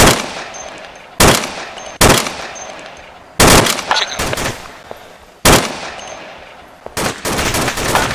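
Gunfire in the military shooter Arma 2, loud close bursts and single shots cracking at irregular intervals, each trailing off into echo.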